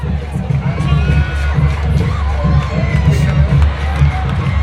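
Crowd cheering at a high school football game, a steady roar of many voices with low rumbling and some shouts, with a commentator talking over it throughout.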